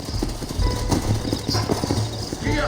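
Horses' hooves clip-clop in Red Dead Redemption, a dense run of close, overlapping thuds with a faint whinny near the end.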